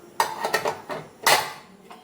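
A metal lid lifts off a hot pan with a banana pancake inside, giving a few light clanks and scrapes, close and fairly quiet, with one louder clatter in the middle.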